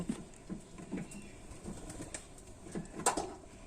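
Pigeons in a loft cage, soft cooing and a few brief wing flutters, faint and close, with low irregular coos scattered through and a sharper flap near the end.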